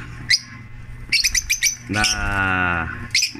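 An overweight, oversized hen gives short chirps, then a longer harmonic squawk, close and clear, with quiet background between the calls.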